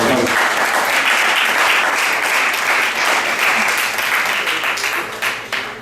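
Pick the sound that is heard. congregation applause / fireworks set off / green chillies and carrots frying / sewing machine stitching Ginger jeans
congregation applause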